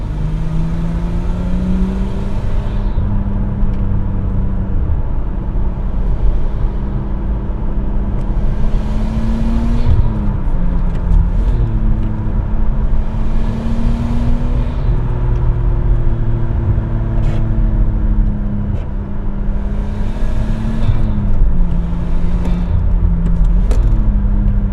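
A Nissan R34 Skyline GT-T with a cat-back exhaust drones steadily while driving in traffic, a loud, throaty low hum from inside the car with gentle rises and dips as the revs change, no talking.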